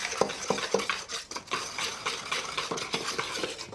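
Flour and salt being mixed for flatbread dough, probably whizzed in a food processor, giving a scraping, rattling churn with a few sharp clicks near the start, moderately loud and close, with no voices.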